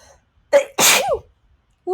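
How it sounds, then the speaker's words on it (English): A single sharp human sneeze, close and loud, with a brief intake just before the burst, then quiet. "I'm going to sneeze."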